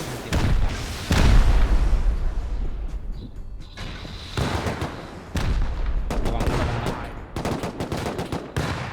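Gunfire and turret shots in the survival game Rust, delivered as repeated loud bursts and rapid volleys with booming impacts, separated by brief quieter gaps.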